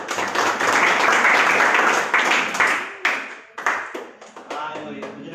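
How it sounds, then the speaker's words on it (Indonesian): A church congregation claps after a sermon, a burst of loud applause that thins into scattered, separate claps toward the end. "Mari kita kasih tepuk tangan."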